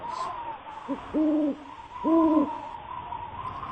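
An owl hoots twice, a short note then two longer ones each time, clear and moderately close against a steady low background hum.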